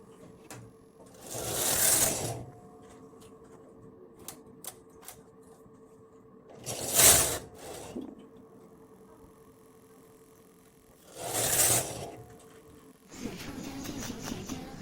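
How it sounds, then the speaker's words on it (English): An SK280 knitting machine head pushed across the bed to knit a row, three separate rasping mechanical sweeps with faint clicks and rattles between them in a quiet room. "Knit a row by moving the machine head."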